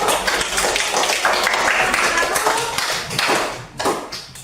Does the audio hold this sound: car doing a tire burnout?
no